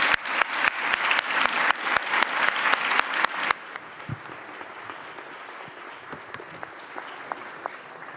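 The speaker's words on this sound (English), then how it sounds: "And now please give a huge applause to our great panelists." An audience at a conference on cultural heritage and peace applauds its panelists, with dense, loud clapping for about three and a half seconds before it drops to a few scattered, fainter claps.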